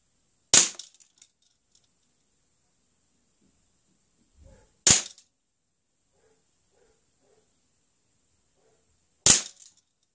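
An Umarex Colt Commander air pistol with blowback fires three sharp, loud, close shots, each spaced about four seconds apart, with near silence in between.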